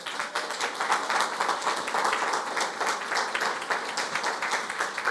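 Steady, dense applause from a church congregation honoring Jesus, many hands clapping continuously at a fairly even level throughout.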